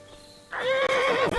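A loud, close horse whinny in Kingdom Come: Deliverance II, a single shrill call that wavers and drops in pitch, with hooves shuffling beneath it.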